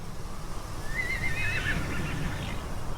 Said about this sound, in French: C'est des chevaux sauvages qui sont ensemble sur ces grands prés.